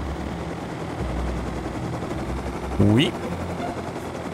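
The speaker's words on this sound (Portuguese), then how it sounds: "Calma lá, que eu tô pegando confiança de novo no helicóptero." Helicopter flying in the video game Rust, a steady low rotor and engine drone running throughout, with a brief burst of a rising tonal sound near the end and a short exclamation from a voice.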